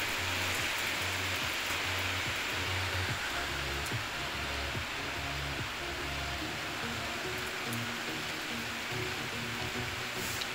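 Steady, dense hiss of rain pours nonstop onto an iPhone 6S Plus, close and fairly loud, with a low rumbling hum underneath.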